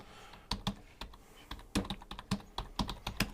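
Quick keystrokes on a computer keyboard, a burst of sharp clicks at an uneven pace, close and clear, with no voices.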